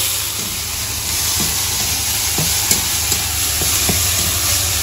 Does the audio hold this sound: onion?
yes